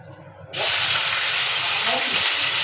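A sudden loud sizzle erupts as half-ground onion hits hot oil, then a steady, close crackling hiss of frying continues.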